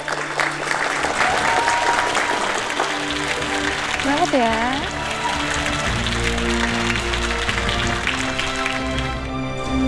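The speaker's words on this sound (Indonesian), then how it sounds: "beri tepuk tangan yang meriah" An audience applauds steadily while a voice speaks briefly over it, and music with sustained tones swells in alongside the clapping, which stays fairly constant throughout.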